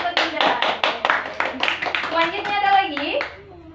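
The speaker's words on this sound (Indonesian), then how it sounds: "Tepuk tangan buat Dinda." Students in a classroom clap their hands in a quick run of sharp, evenly spaced claps that loosen into scattered claps, with children's voices chattering over the second half.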